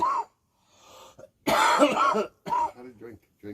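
A few close, harsh coughs and throat clearing come in short bursts between moments of quiet and some speech.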